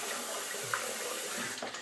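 Water runs steadily from a tap during a rinse-off after shaving with a Schick Type A repeating razor. The flow is a close, continuous splashing that tapers slightly right at the end.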